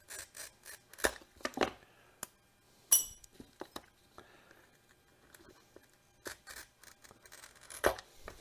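Glass pattern pieces for a leaded glass heart are cut and worked, giving intermittent crisp scratching, snipping and clinking sounds in short irregular bursts with quiet gaps between, close and fairly faint.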